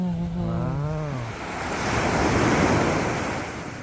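Sea waves wash onto the shore under strong wind buffeting, a steady broad roar that swells toward the middle; a voice is briefly heard at the start.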